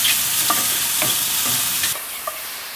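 Mushrooms sizzle as they stir-fry in oil with a pinch of salt for japchae, with a few spaced scrapes of the utensil against the pan before the frying noise drops suddenly, and no one talks.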